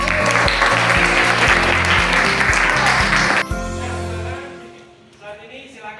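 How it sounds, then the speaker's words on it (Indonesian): Classroom applause from a group of students, dense and loud over a steady musical backing for about three seconds, then breaking off into fading scattered claps as the music continues more quietly. "bagus sekali, tepuk tangan."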